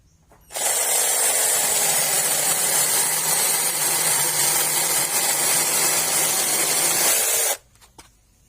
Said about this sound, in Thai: เลื่อยโซ่บาขนาดเล็กนะครับ แบบมือถือ